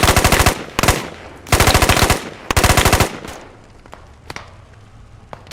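Automatic gunfire in the video game Squad, loud close bursts of rapid rounds broken by short pauses, then tapering into a few sparse, fainter single shots and thuds.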